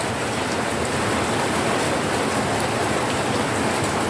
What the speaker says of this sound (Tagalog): sinilip ko dito kung gaano kalakas yung ano, yung ulan dito